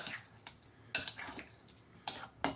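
Hummus ingredients being mixed together in a bowl, with a utensil giving faint, scattered clinks and soft scrapes against the dish in a quiet kitchen.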